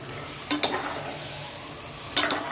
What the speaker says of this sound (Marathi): मटण छान परतून घेऊया आपण